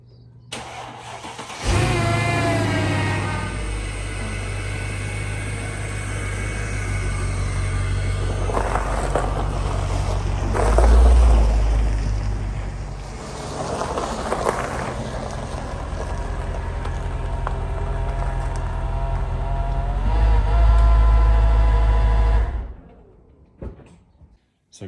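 A Mercedes W211 E-Class engine starts up and idles loudly nearby while the car is moved out, with rumbling revs and creaks across the middle, then the engine shuts off near the end.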